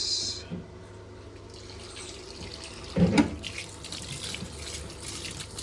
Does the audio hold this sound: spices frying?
no